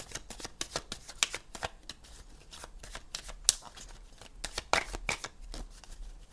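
Tarot cards shuffled and cut by hand, a rapid run of crisp riffling snaps and soft slaps in irregular bursts, close and clear with no talking.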